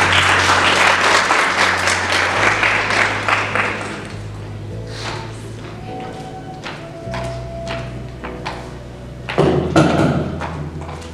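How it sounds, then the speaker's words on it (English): Loud applause from an awards ceremony audience fills the opening seconds, then thins into scattered claps before a brief final swell near the end. "Please give her a round of applause."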